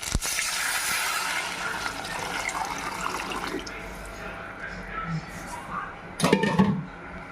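Tamarind water poured into a pan of lightly fried drumsticks, a continuous close splashing pour that tapers off, followed by a brief clatter of the pan or vessel.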